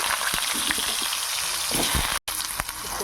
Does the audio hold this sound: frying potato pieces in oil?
yes